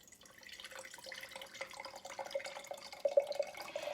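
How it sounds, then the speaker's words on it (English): Thin buttermilk strained from freshly churned homemade butter, falling in quick irregular drips and small trickles into a container, close and fairly quiet with no talking. "So now I am going to strain what little buttermilk I have."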